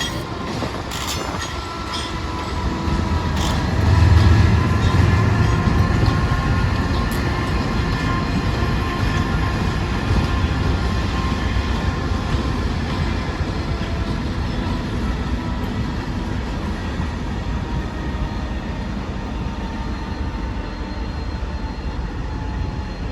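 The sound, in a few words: Canadian Pacific freight train's DPU locomotive chugging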